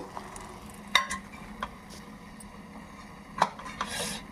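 Cucumber pickle (dosakaya pachadi) stirred in a pan on the stove, a steady low sizzle broken by a few sharp scrapes and clinks of the spoon against the metal, no voices.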